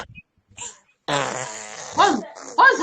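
A fart-like burst sounds during an online reading hangout, followed by a couple of short rising squeaky bursts, close and fairly loud after a brief quiet gap.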